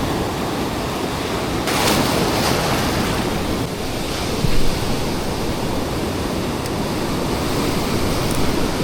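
Big ocean waves roar continuously, a loud broad wash of surf with swells rising and falling, mixed with gusty wind across the microphone.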